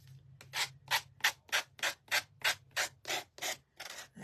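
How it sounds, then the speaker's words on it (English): Sanding a wooden gnome door hanger craft piece by hand, about a dozen rhythmic rasping back-and-forth strokes, close and fairly quiet with no talking. "All right, so we've got that sanded."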